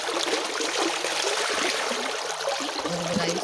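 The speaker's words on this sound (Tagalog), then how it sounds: "Kasi umaagos lang ang tubig." River water flowing in a steady, close wash of rushing sound with no talking, from a clean river near the seashore.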